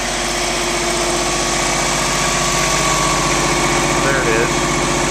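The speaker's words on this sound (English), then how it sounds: "So we'll go take a look at the generator." A quiet diesel backup generator runs at a steady idle, a constant low mechanical hum with even vibration, close by, while a person speaks over it.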